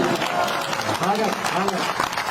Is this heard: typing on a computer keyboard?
no